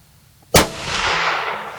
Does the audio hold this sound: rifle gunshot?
yes